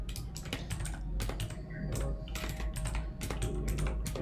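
Rapid typing of code on a computer keyboard, a close, steady run of light clicking keystrokes in uneven bursts, with no talk over it.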